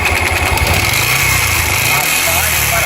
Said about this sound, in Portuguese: Essa moto tá com um barulho como se tivesse uma palheta no rádio